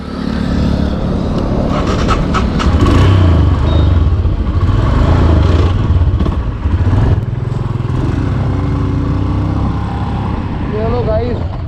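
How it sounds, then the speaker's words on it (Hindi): A touring motorcycle on a Leh-Ladakh road trip starts and runs loudly close by, its engine rumbling steadily with clatter and rises in revs, while someone talks over it. "तो चलिए गाइस अब मैं करता हूँ अपनी बाइक को स्टार्ट।"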